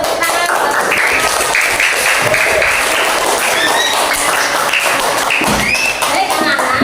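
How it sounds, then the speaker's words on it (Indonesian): A classroom of children claps together in dense, lively applause, with chatter and voices throughout the burst. "Tepuk tangan."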